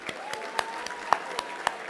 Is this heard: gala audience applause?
yes